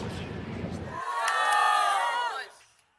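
Crowd of Filipino fans at a women's tennis quarterfinal in the Philippines roars and chants a player's name, a swelling sustained shout that peaks and then fades, following a brief stretch of speech.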